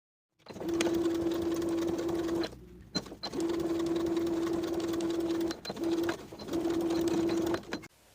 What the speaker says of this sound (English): Then I'll top stitch along my stitching line, catching that fly extension underneath as I go.